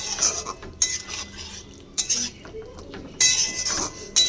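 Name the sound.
stirring coriander into a curry in a pan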